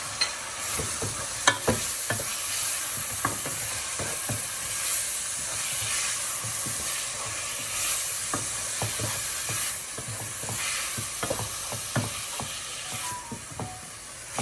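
Continuous sizzling and frying of lamb and chana dal in a pan, with repeated scraping and clacking strokes of a utensil stirring the food throughout.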